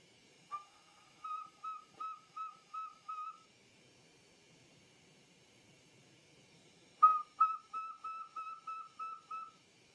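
A handmade glass train whistle blown at a glassblowing bench, giving two clear runs of short, pulsing tones, each run of about six or seven beats, with a quiet gap between the runs.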